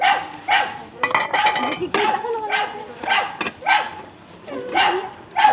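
A dog barks in short, repeated bursts with yips mixed in, close by, while people talk over it in a busy home or shop setting.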